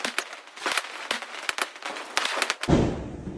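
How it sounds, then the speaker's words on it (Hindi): Diwali sky-shot fireworks burst outdoors, a rapid series of sharp cracks and pops in irregular clusters, heard from nearby before fading into a softer rumble. "स्काई शॉट चल रहे हैं बाहर"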